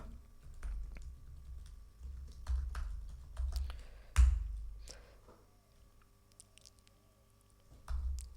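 Keys click on a computer keyboard as a password is entered and confirmed, short irregular bursts of soft, close taps with a firmer keystroke midway, quiet and without talk.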